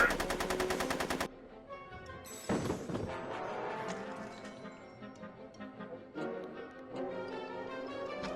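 Gunshots in Back to the Future: The Game: a quick burst of rapid shots at the start, then scattered single cracks and ricochet-like pings over music and ambience.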